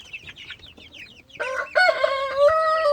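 Young chickens cluck and chirp softly, then a rooster crows loudly close by, its long drawn-out call filling the second half.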